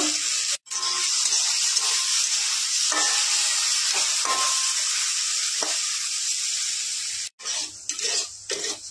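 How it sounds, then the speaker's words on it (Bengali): Golden moong dal fries in white oil in a wok, giving a loud, dense, continuous sizzle with brief stirring clicks and two short gaps where the crackle drops out. "সাদা তেল দিয়ে দিচ্ছি সোনা মুগটা ভাজার জন্য"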